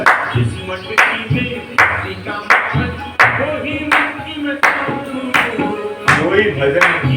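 Hand clapping kept in time with a sung bhajan during a pranayama breathing session, sharp regular claps about once per second over melodic singing voices and accompaniment, close and fairly loud.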